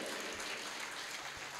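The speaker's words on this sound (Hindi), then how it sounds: "अपने लिए ताली बजाओ" Audience applause at a Hindi religious discourse, a dense steady wash of many hands clapping at moderate distance, continuous and even without any voices over it.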